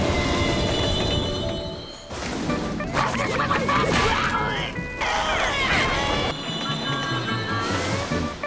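A train in a SpongeBob cartoon episode, heard as loud rumbling and clattering with squealing, metallic tones and a few crashing hits, mixed with busy cartoon sound effects and music.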